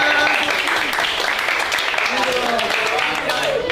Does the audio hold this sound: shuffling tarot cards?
no